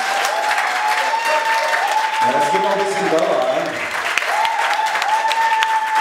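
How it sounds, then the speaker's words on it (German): Wedding guests give the bridal couple steady, dense applause before the opening dance. Someone speaks briefly over the clapping, which dips a little midway and then swells again. "Geben Sie mal einfach einen riesengroßen Applaus für unser Hochzeitspaar."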